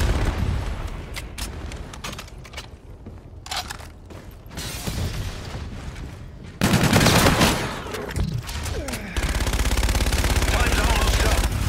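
Light machine gun fire in Call of Duty Infinite Warfare multiplayer, rapid sustained bursts that swell louder in the second half over mechanical clatter, with someone talking.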